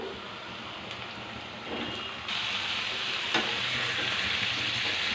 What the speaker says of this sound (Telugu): నూనె కాగిందండి, వేసుకున్నాము. గోల్డ్ కలర్లో వచ్చేదాకా వేపుకోవాలండి.